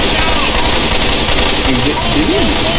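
Dense, continuous automatic gunfire rattles loudly and without pause in the video game Dying Flame, a steady barrage with no gaps.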